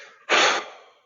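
One deep, airy breath during qigong exercise, a short breathy rush that swells quickly, then tapers off over about half a second, close and alone.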